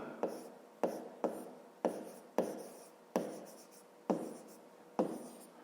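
Handwriting on paper while working a fifth-grade maths exercise, heard as a close, quiet series of short scratchy pen strokes in a regular rhythm, each stroke starting sharply and fading, with no talking.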